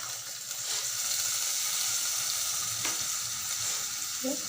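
Tomato rasam being stirred in a pan, a continuous wet hiss and sizzle with soft scraping and sloshing of liquid, close and steady.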